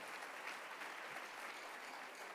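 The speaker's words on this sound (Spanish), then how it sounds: "Dele palmas al Señor con todo su corazón." Church congregation clapping for the Lord, a soft, even patter of many hands heard from a distance, steady for a couple of seconds with no voices over it.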